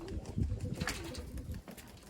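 Pigeons coo in low, soft, throaty bursts, close by, with a little rustling around them.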